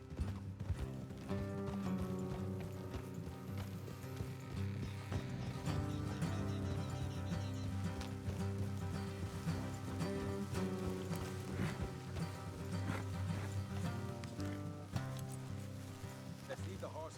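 Steady clip-clop of horse hooves trotting along in the video game Red Dead Redemption 2, mixed with music and ambient outdoor sounds, continuing throughout.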